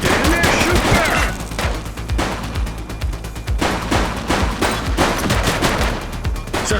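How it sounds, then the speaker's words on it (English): Gunfire in a police shootout from The Precinct video game, with rapid bursts of shots crackling in an irregular rhythm, loud and close, mixed with occasional shouted voices. "Light them up! Don't just stand there, shoot back!"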